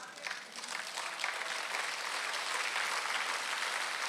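A church congregation at a Sunday worship service applauds in a steady, broad wash of clapping that builds slightly and stays even throughout.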